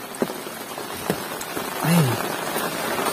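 Rain falling on a path in a Sundanese village, a steady soft hiss with occasional drop taps close by, plus a brief low vocal sound near the middle.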